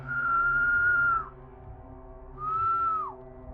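Creatures in a tabletop game whistling to communicate: two sustained, slightly wavering whistled tones, the first long and the second shorter with a falling end, clear and close over a low background hum.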